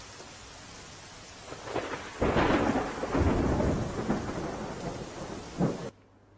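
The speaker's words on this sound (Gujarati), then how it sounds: "મહીસાગરના લુણાવાડામાં ધોધમાર વરસાદ વરસ્યો" Heavy downpour with rolling thunder in Lunawada, Mahisagar, Gujarat: a steady roar of rain swells into loud, sustained rumbling thunder, with a sharp crack near the end before it cuts off.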